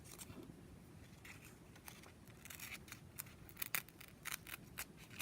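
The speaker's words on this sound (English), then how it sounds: "We can just do a simple little trick like tear this in a little round shape." Paper being torn by hand into a small round shape at an inking desk, a series of short, crisp rips and crackles at close range with a low background rumble and no talking.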